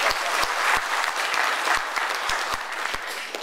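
Attendees at an official-language award distribution ceremony clap vigorously, dense applause with a few sharp, rhythmic claps standing out close by, sustained throughout.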